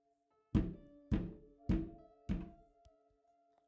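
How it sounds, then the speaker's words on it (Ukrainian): A fist pounds on a door four times in slow, even succession, each blow a heavy, booming thud that rings out and decays into silence. "тільки це вже був не стук, а удари кулаком по двері"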